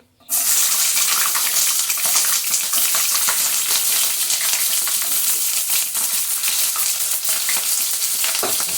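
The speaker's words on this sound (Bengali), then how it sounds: "এখানে পেঁয়াজের পাপড়িগুলি আগে ভেজে তুলে নিচ্ছি" Sliced onion petals hit hot oil with a sudden loud sizzle, then fry with a dense, continuous close crackling hiss for several seconds, prepared for a white pulao and soybean dish.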